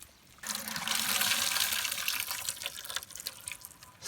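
Water from a pressure wash runs and splashes off the roof and hood of a 2002 GMC Sierra pickup, a loud, continuous close-up rush of pouring and dripping that starts abruptly and fluctuates.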